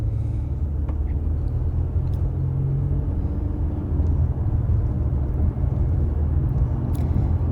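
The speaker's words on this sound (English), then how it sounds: "I do like the sound of this V6. It just sounds amazing." The V6 engine of a 2012 Acura MDX with all-wheel drive pulls hard from a stop on a country road, heard from inside the cabin as a deep, steady rumbling drone over road noise.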